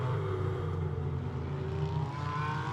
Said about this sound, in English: It's a great noise, the BMW.